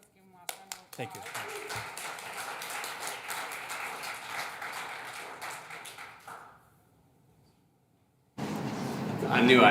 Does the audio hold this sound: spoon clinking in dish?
no